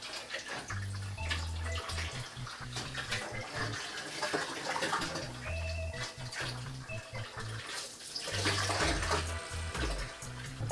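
Salt water pours from a vat into a reef aquarium tank with a steady splashing rush, pumps humming low underneath and gurgling surges that swell and fade.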